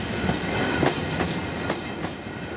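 Passenger train on a long-distance journey from Europe to Mongolia, a steady rolling rumble with rhythmic clickety-clack wheel beats over rail joints, heard from close inside the carriage.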